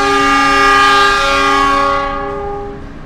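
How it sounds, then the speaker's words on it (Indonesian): Arjuno Express train sounds a loud, sustained multi-tone horn while departing the station, close by and slowly fading toward the end. "Yang berangkat Arjuno Express-nya duluan"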